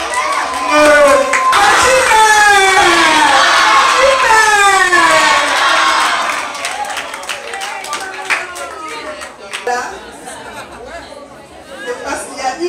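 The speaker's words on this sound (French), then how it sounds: "Est-ce qu'on peut applaudir encore? Acclamons pour Fachi Beton." At a Congolese Day of the African Child gathering, an audience applauds and cheers loudly with shouts and chatter for about six seconds, then the noise fades to scattered claps and voices.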